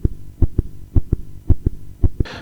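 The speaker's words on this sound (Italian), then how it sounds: "Il più interessante è stato un battito cardiaco." A heartbeat captured during a night investigation on the noble floor of Monselice Castle in Padua, thudding in steady paired lub-dub beats, deep and close, about eight pulses with no voices.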